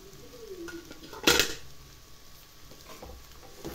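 Semolina and cooked vegetables are stirred in a hot pan, with a sharp metallic clank of utensil against the pan followed by softer scraping and faint sizzling nearby.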